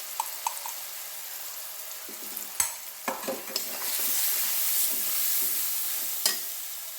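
Turmeric, chili powder and cumin-coriander powder frying with vegetables for a pumpkin-and-egg curry, with scattered scraping taps of stirring at first, then a louder, fuller sizzle swelling up and holding steady, heard close with no talk.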